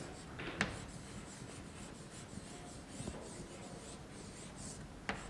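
Pen or pencil writing by hand on paper during a Mongolian language lesson, a steady soft scratching that runs throughout with a few light taps, close and fairly quiet.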